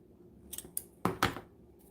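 Scissors snip several times while a wreath is being made, giving short crisp cuts, two quick ones and then two louder ones close together, in an otherwise quiet room.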